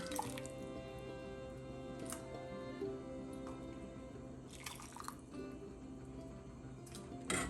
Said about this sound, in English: So just pour some in a bowl.